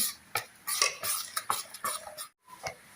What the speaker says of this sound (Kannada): ರವೆ ಹಾಕಿ ಒಂಥರ ಚೆನ್ನಾಗಿ ಮಿಕ್ಸ್ ಮಾಡಿ